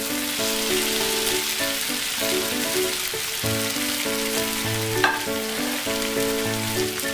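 Sliced onions fry in a pan as okra is added for a bhindi sabzi, giving a continuous crackling sizzle with occasional stirring scrapes. Steady background music plays over it, and there is no talking.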